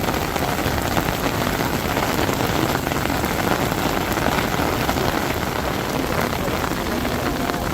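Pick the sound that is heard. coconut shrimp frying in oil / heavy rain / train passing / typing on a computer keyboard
heavy rain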